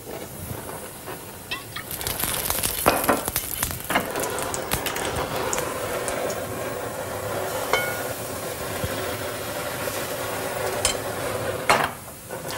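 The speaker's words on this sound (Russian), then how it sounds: "Пока блин у нас жарится" A pancake frying in a pan gives a steady soft sizzle throughout, with scraping and clattering of utensils at intervals and no one speaking.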